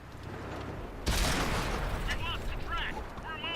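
A single heavy tank cannon shot from an M46 Patton booms out suddenly in a tank video game after a quiet rumble, its blast rolling away beneath someone talking.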